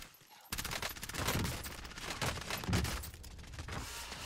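Sustained gunfire in the video game Warzone, dense automatic bursts and rapid shots running continuously at high volume with no pause, no voices heard.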